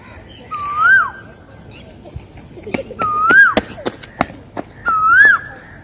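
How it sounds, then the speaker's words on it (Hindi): An Asian koel calls three times from near a local graveyard, each call a clear rising whistle spaced a couple of seconds apart. A steady high insect drone runs underneath, with a few sharp knocks or taps between the calls. "और ये कोयल बोल रही है।"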